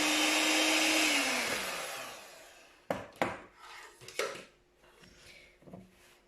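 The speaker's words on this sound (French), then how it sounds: "je vais continuer de battre avec le batteur électrique" An electric hand mixer beats butter-cookie dough with a loud whirring drone that winds down and stops. Several knocks and scraping thuds of the beaters and bowl follow.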